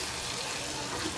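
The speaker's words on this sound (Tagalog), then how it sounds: "Tapos dito natin ilalagay yung sabaw ng sardinas." Sardine broth pours into a pan for bihon, a brief, steady watery gush that stays even from start to finish.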